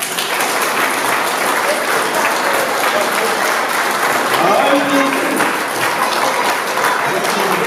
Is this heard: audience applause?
yes